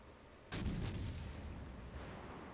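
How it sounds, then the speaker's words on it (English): A French battleship's main naval guns fire in the World of Warships game, a single loud, booming salvo that cuts in suddenly, then rolls into a long, low rumbling tail with no talk over it. "Because he decides he wants to shoot the guns."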